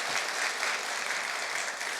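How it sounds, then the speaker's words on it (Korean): A church congregation claps together in a steady, dense round of applause, close and even in loudness from start to finish. "그럼 박수 한번 쳐봐야죠."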